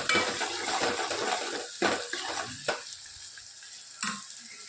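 Masala and cumin sautéing in a pan for sev usal, a steady loud sizzle with sharp scrapes and clinks of a spoon stirring against the metal, the frying quieting between strokes.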